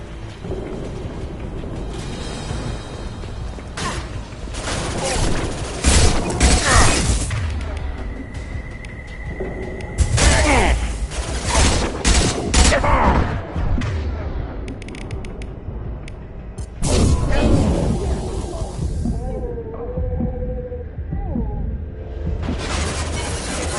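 Rifle gunfire in the sci-fi shooter Mass Effect 2, heard as bursts of sharp shots and impacts mixed with clanking game effects and ambient sound, loud and close, with short pauses between volleys.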